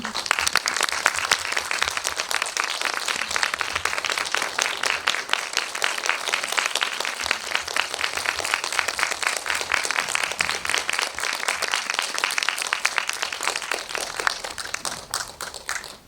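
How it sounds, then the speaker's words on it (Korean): A cinema audience at a film screening talk gives a long, dense burst of applause as the director, actors and original author enter, with continuous loud clapping that fades toward the end. "들어오시면 큰 박수 부탁드릴게요"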